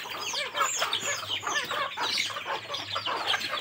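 Several chickens cluck and squawk noisily in a small, crowded coop after rain, with overlapping calls in a busy, continuous chatter close by.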